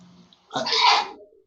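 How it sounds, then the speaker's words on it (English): A single close, loud human sneeze bursting out suddenly after a moment of near silence, then trailing off quickly. "whoever sneezed"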